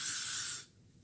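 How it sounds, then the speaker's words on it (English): A single short, close burst of hairspray hisses onto styled hair for about half a second, then cuts off into quiet. "Go over with a little bit of hairspray."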